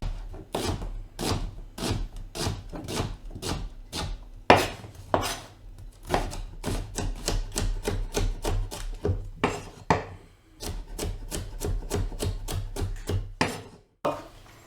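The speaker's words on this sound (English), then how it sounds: "first we're going to cut up a nice white onion" Knife chopping a white onion on a board, a long run of sharp, evenly spaced cuts with brief pauses, close and clear with no talking.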